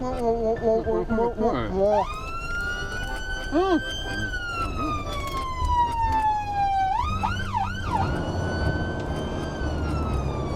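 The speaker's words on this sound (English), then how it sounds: "Ambulance blasting through." An ambulance siren wails loudly from inside the moving vehicle, its tone sweeping up and down and shifting pitch across the whole stretch, over road rumble and the cab's engine noise, with a brief voice near the start.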